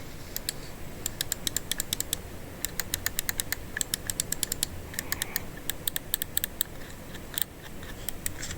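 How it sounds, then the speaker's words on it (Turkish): Glorious Model D computer mouse buttons clicked in quick, irregular bursts of sharp, crisp clicks, close up and alone, with short pauses between runs. "Klik seslerini şöyle size dinleteyim."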